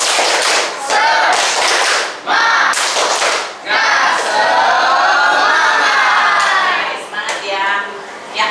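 A group of teachers performs a rhythmic clapping chant in a classroom session: loud, patterned bursts of clapping mixed with shouted chanting voices, ending in a cheer.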